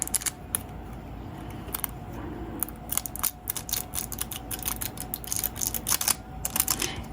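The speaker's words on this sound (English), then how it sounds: "on the back of these tweezers, works the best for rubbing on these foils" Back of metal tweezers rubbing across nail art foil on a fingernail, heard as close, quick scratchy strokes and small clicks in irregular bursts over a faint steady hum.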